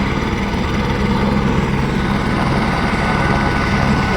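A helicopter at the Kedarnath helipad among snowy Himalayan peaks gives off a loud, steady rotor and turbine drone. The drone holds close and unbroken throughout, with no voices.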